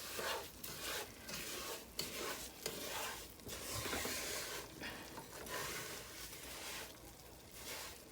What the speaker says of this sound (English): you can hear it sizzling and almost, you can almost hear a small boiling